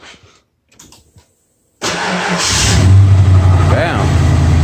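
A Ford engine with a newly upgraded starter cranks briefly, then catches and settles into a loud, steady idle with a slight rise in revs, preceded by quiet clicks and soft handling noises.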